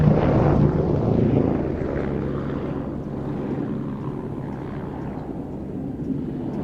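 Lockheed helicopter with a rigid rotor system flying aerobatics at an evening aviation show, a loud deep rotor and engine roar that stays steady and gradually eases without any talk.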